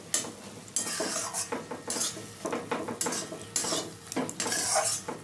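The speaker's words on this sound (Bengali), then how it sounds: "ভালো করে টমেটোর সাথে সব মিশিয়ে নিলাম।" A spoon scrapes and clinks against a pan while tomato chutney with dates, cashews, raisins and homemade mango leather is stirred, steady close-up scraping strokes with faint sizzling and no talk.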